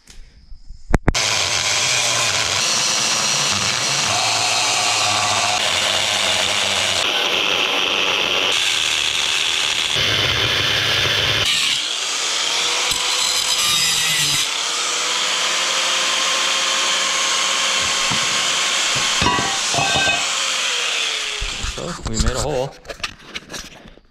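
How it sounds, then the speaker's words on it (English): An angle grinder cuts into steel lowrider lower control arms for a 67-72 C10 pickup, a loud continuous whine that shifts pitch and pauses briefly, then ends in rough rattling bursts. "nobody wants to watch 20 minutes of grinding"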